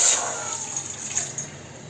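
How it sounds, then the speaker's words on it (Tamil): Tap water pours steadily into a cooking pot set on a stove, a continuous gushing splash lasting the whole moment, close and fairly soft with no talk over it. "அடுப்பில் ஒரு பாத்திரத்தை வச்சு அதில் 1 டம்ளர் அளவுக்கு தண்ணியை விடுங்க"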